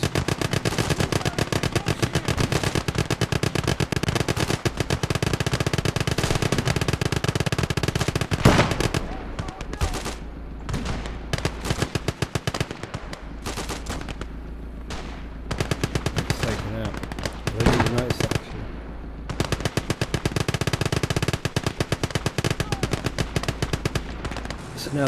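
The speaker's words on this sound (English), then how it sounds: "There's also a vehicle approaching us from the right. With a mounted machine gun right next to one of the Small Scouts." Mounted machine gun on a vehicle in Call to Arms Gate of Hell fires long, rapid, dense bursts, loud and nearly continuous, with brief pauses and other gunfire mixed in.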